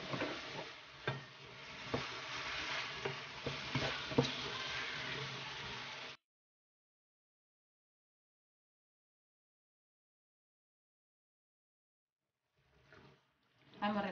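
Seafood fideuà sizzles and is stirred in a hot pan, a dense continuous frying hiss with scraping stirs for about six seconds, then silence until the sizzle softly returns near the end.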